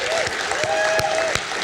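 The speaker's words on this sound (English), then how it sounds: "So I'd like us all to give Governor Lujan Grisham an appreciative round of applause." A room applauds Governor Lujan Grisham at a Las Cruces, New Mexico film event, a short burst of dense clapping with a few sharper claps and a faint tone running beneath.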